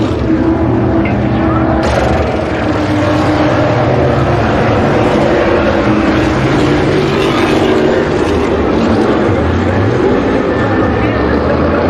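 Modified race cars roaring around the track at Concord Speedway in North Carolina during a 2003 feature race restart, a dense, steady engine drone filling the whole stretch with a race announcer speaking over it.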